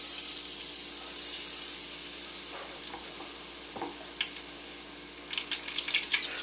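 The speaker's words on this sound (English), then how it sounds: "Hopefully we can see these things frying." Surf and turf frying in hot grease in a deep fryer with baskets lowered in, a steady bright sizzle with scattered pops and crackles that grow busier toward the end.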